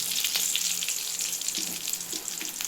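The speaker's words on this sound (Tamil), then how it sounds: "எண்ணெய் ஊற்றியாச்சு, கடுகு போட்டுக்கலாம். இப்போ வந்து சீரகம் போட்டுக்கலாம்." Mustard seeds, cumin and dried red chillies fry in hot oil with a bright, continuous hissing sizzle and a scatter of small crackles, close and fairly loud with no talk.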